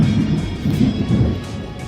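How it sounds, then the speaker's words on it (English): Thunder from a lightning storm rolls as a loud, continuous low rumble that swells and eases over a couple of seconds, with no voices over it. "Here comes some lightning."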